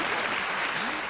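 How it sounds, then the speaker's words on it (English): Live theatre audience at a Derren Brown magic show applauding steadily, a dense wash of clapping with a voice faintly over it. "so I appreciate your applause"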